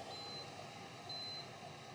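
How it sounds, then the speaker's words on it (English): Two thin, high-pitched electronic beeps from a Cosori temperature-control electric kettle signalling it is done sound about a second apart over a low background hum. "it beeped 3 times to let me know that it's all done"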